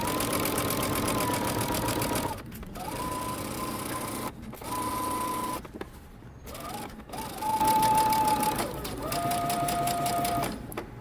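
A sewing machine stitches a 3/8-inch seam on a dress, running in steady whirring bursts broken by several short pauses, close and loud.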